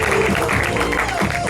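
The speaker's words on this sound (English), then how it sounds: "Can we give a round of applause to all of our agents that brought the business partner" A brief burst of dense clapping from an audience at a business training meeting, applauding the agents as a steady wash of hand claps.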